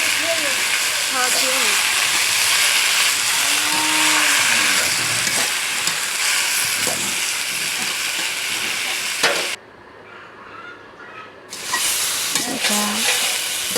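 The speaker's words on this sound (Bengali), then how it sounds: "এগুলো দিয়ে দেওয়ার পরে সুন্দর করে নাড়াচাড়া করে কষিয়ে নেব।" Pumpkin greens and potatoes stir-fry with spice paste in a pan, giving a loud continuous sizzle with repeated scraping and clacking of a spatula, a brief quiet gap, and someone talking at moments.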